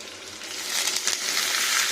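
Pieces of brinjal tipped into a pan of potatoes already frying in oil, a rustling crunch that swells into a loud, close, steady sizzle with no voices.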